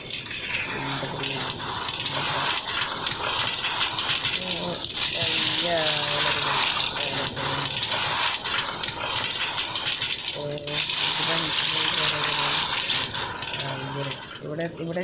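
Flowing water in the Minecraft video game: a continuous gushing rush that runs throughout, with people talking over it at several points.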